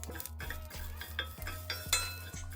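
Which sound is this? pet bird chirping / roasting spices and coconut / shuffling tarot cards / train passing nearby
roasting spices and coconut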